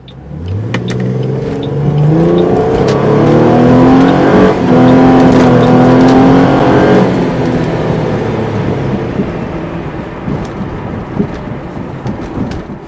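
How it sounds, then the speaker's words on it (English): A 2007 Ford Mustang V6 engine hums and revs steadily, its pitch climbing and holding as the car drives, with a rushing rain-like noise underneath and no speech. "let's get in this car and drive it"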